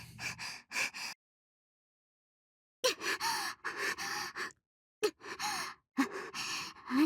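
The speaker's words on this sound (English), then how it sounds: "Breathing sounds." A character in the visual novel SubaHibi breathes heavily after running, with close, loud gasps and panting breaths in short bursts separated by silent gaps.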